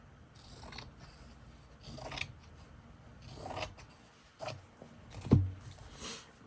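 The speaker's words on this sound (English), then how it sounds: "Okay, so I think if I cut it here," Scissors snip through thin muslin fabric for a handmade journal, a handful of soft, close cuts spaced irregularly over quiet room tone.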